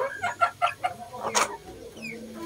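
Crossbred chickens from a Rhode Island Red line cluck in a coop: a quick run of close, bubbly clucks, then a sharper squawk, alone over a faint background.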